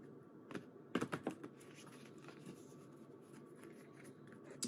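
Shuffling of an oracle card deck, a Kuan Yin Rising Oracle deck: a quick burst of soft card riffles and taps near the start, then quiet papery rustling at low level, close and alone with no talk.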